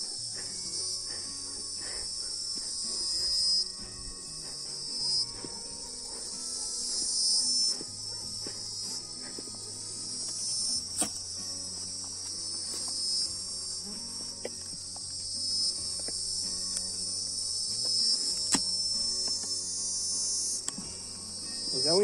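A strong swarm of Africanized honey bees buzzes at an open hive in a dense, continuous high-pitched hum, with occasional faint clicks and knocks nearby.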